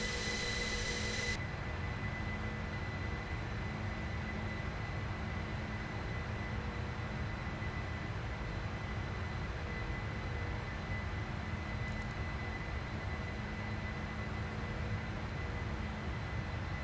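Boeing 747-400F jet engines in the Prepar3D flight simulator on an Anchorage to Edmonton climb, a steady, fairly quiet broadband engine drone with a constant tonal hum, unbroken and free of talk.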